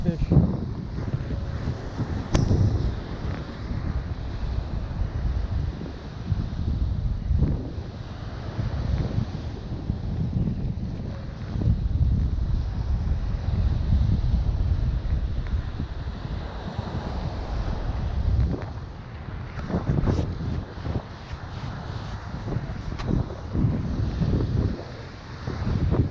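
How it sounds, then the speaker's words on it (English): Strong wind buffets the microphone on open ocean water while fishing from a boat in early spring, a steady loud low roar with gusty surges lasting throughout. "Strong wind."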